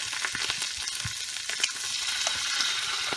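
Tomato paste hits hot vegetable oil in a pan for chicken with spinach, giving a steady close sizzle and frying hiss with a few stirring scrapes and clicks, no voices.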